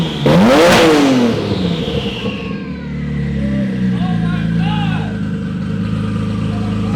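A 1500hp Nissan R35 engine revs hard at the start, a rising and falling roar that then settles into a steady rumbling idle, with people talking over it.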